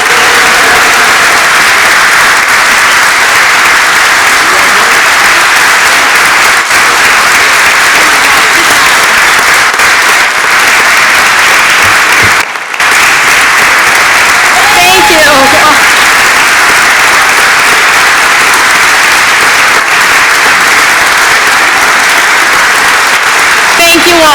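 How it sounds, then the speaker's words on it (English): A large audience at an annual chamber of commerce meeting gives a long, loud, sustained round of applause for a service award recipient, clapping steadily for over twenty seconds with a few cheers mixed in. "Please, everyone, join me in offering a warm and heartfelt round of applause for this year's Charles A. Fuller Chamber Service Award recipient, Suzanne Fernandez."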